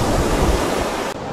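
Sea waves wash onto a beach in Crimea, a steady broad rush of surf close by with wind noise on the microphone, continuous and fairly loud with no voices.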